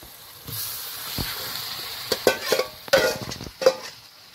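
Chicken pieces dropped into hot spiced oil for biryani, a steady sizzle and frying hiss with sharp crackling bursts and stirring clinks, close and loud, no talking.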